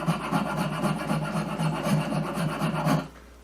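Steady rhythmic rasping as a file works a bevel into a wooden mandolin part being converted to left-handed, close and continuous for about three seconds, then stopping abruptly.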